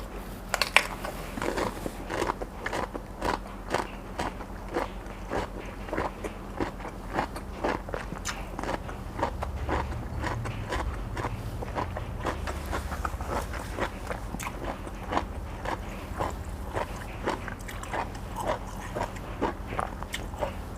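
Biting and chewing a large mouthful of papaya salad with thick fermented fish sauce, eaten with sun-dried pork, heard as continuous close, wet crunching and munching in a steady rhythm with no speech over it.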